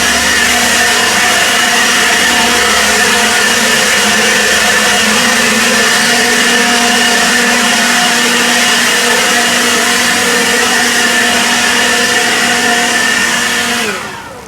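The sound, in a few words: blower blowing loose top layer off paver joints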